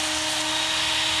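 A chisel bevel being cambered on a Ken Onion Work Sharp powered sharpener, a steady loud whirring grind with a constant motor hum, uninterrupted throughout.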